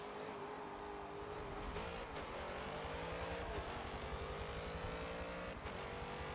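A van engine runs in Forza Motorsport 7 during a race against supercars, a steady droning engine note with slight revs and gear-shift dips, fairly faint and continuous, with no speech.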